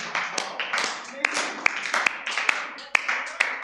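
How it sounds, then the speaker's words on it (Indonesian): An audience at a talk gives a short round of clapping, a thin and uneven patter of hands with a few sharper claps standing out. "kasih tepuk tangan buat Gen Z dong"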